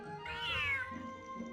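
A large cat in the video game Odisseia da Fortaleza Felina lets out one clear, drawn-out meow that rises and then falls, close and alone with no talk over it.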